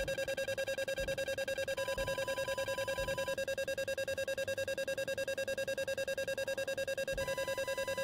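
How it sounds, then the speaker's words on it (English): A rapid, steady electronic beeping fills the cockpit of an A-10C attack jet in DCS, a continuous tonal alarm pulsing evenly and loudly over a low rumble, with faint extra tones at moments. "You can hear that annoying beep."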